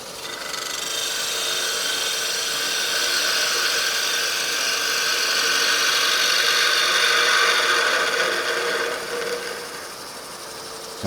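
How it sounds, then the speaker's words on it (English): A wood lathe spins an acorn box while a gouge takes a long continuous cut, producing a steady, bright hissing scrape over a low motor whir that holds for about eleven seconds. "use my roughing gouge to do this"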